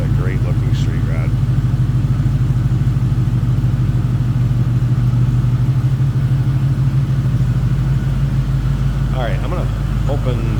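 A 1934 Buick Victoria street rod runs at a steady idle heard from behind the car, its low, even engine rumble continuous throughout, with people talking faintly over it.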